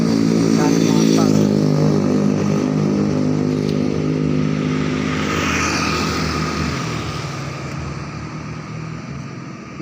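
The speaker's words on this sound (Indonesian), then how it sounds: "Keadaan jalan raya wajar saja, tidak terlalu padat dengan mobil dan motor." Steady road traffic on a city street at night, cars and motorcycles passing close by with continuous engine rumble and occasional revving, loud throughout and fading slightly toward the end, with a voice talking over it.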